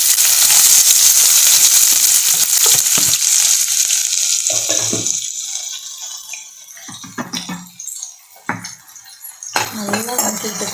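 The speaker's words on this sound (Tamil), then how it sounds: "நல்லா வதக்கி விட்டுக்கோங்க." Sliced onions sauté in hot oil with mustard seeds for a Tamil fish curry. A loud, continuous sizzle fades as the pan settles, broken by repeated scrapes and clatters of a spoon stirring against the pan.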